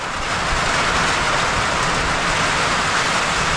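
Heavy rain driven by strong wind pours over a standing cornfield, a dense, steady roar of broadband noise that stays loud and unbroken throughout with no voices.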